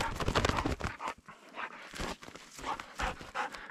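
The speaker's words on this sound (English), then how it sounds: "That's a good dog." Hunting dog on a sharptail grouse hunt in Montana pants hard and rapidly up close, quick ragged breaths with faint rustling and movement.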